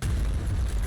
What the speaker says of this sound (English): sometimes when you blow up a car at the end of the level,